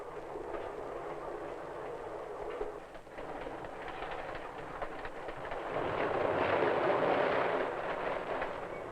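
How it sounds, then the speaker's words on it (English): A Santa Fe railroad passenger train from 1955 runs along the track with a steady, continuous rumble and rattle that swells louder in the last few seconds, with no voices. "the train speeds toward the sunset"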